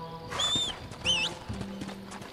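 In the Red Dead Redemption video game, a horse gives two high, wavering whinnies close by, followed by a few soft hoof clops and low snorts, fairly quiet overall.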